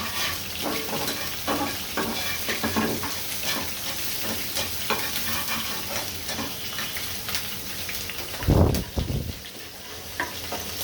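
Chopped onion and garlic lightly fry in oil before prawns go in, a continuous crackling sizzle close by, with stirring scrapes and a louder burst of spatter near the end.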